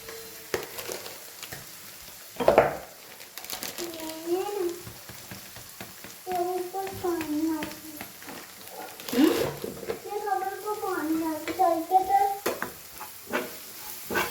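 Spices such as coriander-cumin powder, salt and amchur stirred in hot oil in a pan, with gentle sizzling and scraping stirs close by while someone talks over it.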